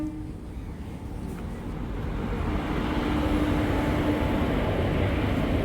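A train pulling into a station, a low rumbling roar that gradually swells louder and heavier as it draws near, steady and continuous with no speech.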